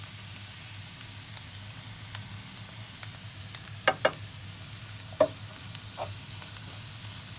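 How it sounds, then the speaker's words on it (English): Garlic hits a pan of wilting vegetables for spring rolls, producing a quiet, even sizzle broken by a few sharp pops and clicks, heard without any talking. "now I'm going to add in the garlic"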